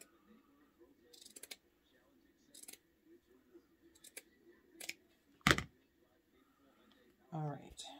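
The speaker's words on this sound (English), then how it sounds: "I am going to cut this edge off" Scissors snipping the edge off a DIY wooden house craft, a few short crisp cuts spread through a quiet room with some faint handling noises between them.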